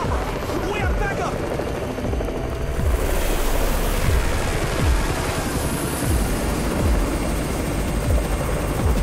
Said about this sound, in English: It's Raven's chopper!